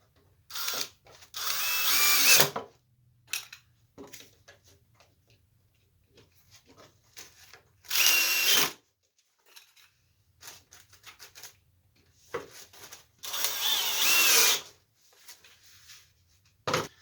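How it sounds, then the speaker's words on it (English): A power drill drives wood screws into a futon bench in a workshop, three loud whirring bursts of a couple of seconds each, separated by quiet pauses with light handling clicks. "instead of clamps, I'm going to hold this down with some wood screw"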